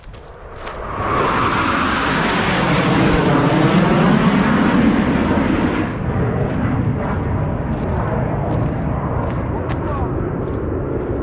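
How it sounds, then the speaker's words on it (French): A fighter jet passes low overhead above the Vallée des Saints near Boudes, a sudden roaring rush that swells quickly to a loud, broad, sustained drone, then carries on as a steady rumble. "Un avion de chasse vient de passer juste au-dessus."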